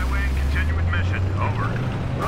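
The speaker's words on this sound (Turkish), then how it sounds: "Şu uçaklar da bizden herhalde arkadaşlar." Military aircraft in Battlefield 3 over desert terrain, a steady low engine drone that holds level throughout, with game chatter and effects above it.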